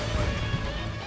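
A Falco forward smash lands in a Super Smash Bros. Melee tournament match, a sharp crashing hit that rings out loud and brief amid dense game noise.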